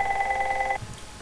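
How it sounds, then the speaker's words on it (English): A telephone rings with a steady electronic trill up close, then cuts off abruptly partway through, leaving quiet room tone. "Okay, sorry about that phone call."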